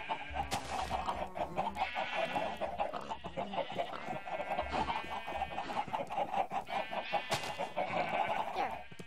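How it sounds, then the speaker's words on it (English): Chickens cluck continuously in a video game, a dense layered flock of hen calls with occasional rooster-like cries, fairly loud and steady throughout with no talking. "I forgot to spawn the chickens."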